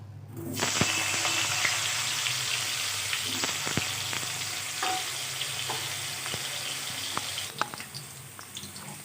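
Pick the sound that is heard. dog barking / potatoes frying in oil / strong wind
potatoes frying in oil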